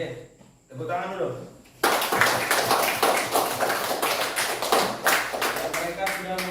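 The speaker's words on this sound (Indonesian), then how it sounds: "Oke, tepuk tangan dulu." A classroom of students clapping hands together, brisk rhythmic claps that start abruptly after a quiet spoken moment and continue loudly and evenly for several seconds, with voices faintly mixed in.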